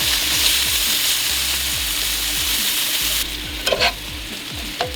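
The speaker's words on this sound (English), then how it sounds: "next up I'm going to go ahead and cook off some plant-based bacon" Plant-based bacon frying in a pan, a loud continuous sizzle that drops slightly partway through, followed by a few scraping stirs, with no voices.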